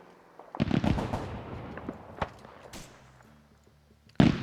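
Rockets fire down from a ridge in a war video game, sending a burst of sharp cracking blasts, then scattered bangs and a thud. A low engine-like drone follows, and a loud crack returns at the end.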